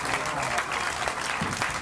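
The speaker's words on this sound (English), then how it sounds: "Loud round of applause." Loud audience applause at a Memorial Day ceremony, a dense, continuous burst of clapping from a crowd, close and full, with faint voices mixed in.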